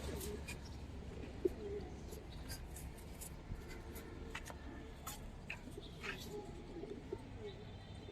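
Pigeons of silver-coloured and army breeds coo softly in a cage, a low steady murmur under continuous background noise and occasional voices.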